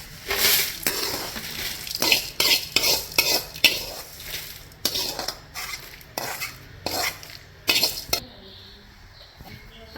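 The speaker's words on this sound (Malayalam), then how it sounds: "ആ ചട്ടിയിൽ തന്നെ നമുക്ക് തേങ്ങ വറുത്ത് കൊടുക്കുക" Roasting grated coconut stirred in a hot pan for Kerala-style chicken curry, where coriander and chilli were just roasted: repeated scraping and clinking strokes of a spoon against the pan over a soft sizzle, close and steady.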